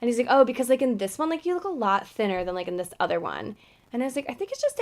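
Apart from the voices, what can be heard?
None of the usual background noises is heard.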